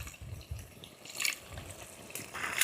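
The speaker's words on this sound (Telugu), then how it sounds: "లైట్గా చిన్న వాటర్ పోద్దండి" A small splash of water is poured into a cooking pan of barramundi fish, giving faint, brief trickles and splashes in a few short bursts.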